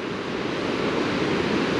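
Steady broadband roar of waves pounding continuously against coastal rocks at Mariveles, Bataan, loud and close, with no voices.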